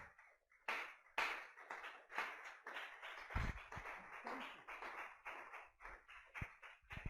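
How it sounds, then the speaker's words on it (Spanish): A church congregation claps in praise. Scattered handclaps are moderately faint, rising and falling in an uneven rhythm over about seven seconds with no talk over them. "Denle el aplauso al Rey de los cielos."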